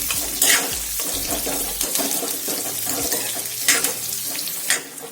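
Onions sautéing in a pan for chutney, a steady close sizzle with occasional stirring scrapes and brief splashy bursts, no talking.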